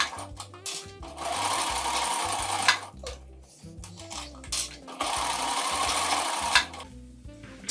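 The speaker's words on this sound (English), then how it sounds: "Just gonna sew straight all the way around." A domestic sewing machine stitches fabric for pajamas in repeated bursts of rapid mechanical whirring, stopping and restarting several times, close and fairly loud with short pauses between runs.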